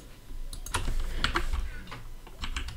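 Loud computer keyboard typing in bursts of sharp, clacky keystrokes, close and uneven in rhythm, with brief pauses between flurries, under quiet game background sounds.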